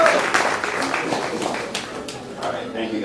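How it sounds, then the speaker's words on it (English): Audience applause for the evening's MC at a West Indian Lions awards event, moderately loud clapping mixed with crowd chatter and a few chuckles, fading slightly then steady over three seconds. "So give her a round of applause for that"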